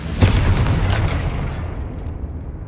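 A Confringo blast spell in Hogwarts Legacy lets out one sharp, booming explosion that rumbles on and fades over a couple of seconds.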